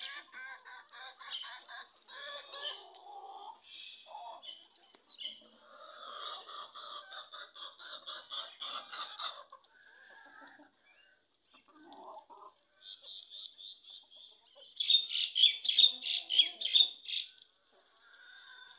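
Black-eyed roosters clucking and calling in a farmyard, a run of close, rhythmic clucks and chattering calls that swell louder toward the end, with a brief voice in the background.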